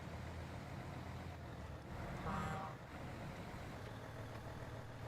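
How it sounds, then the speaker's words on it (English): Mercedes-Benz Zetros truck engine in the video game SnowRunner, a steady low diesel drone running throughout at moderate level, with a brief louder swell near the middle. "The engine sound is on point"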